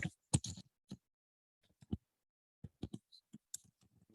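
Sparse clicks of keys being pressed, a few quick bursts separated by pauses, close and fairly quiet with no talking.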